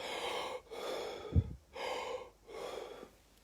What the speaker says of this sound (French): J'ai fait exactement 26 cycles de respiration Wim Hof.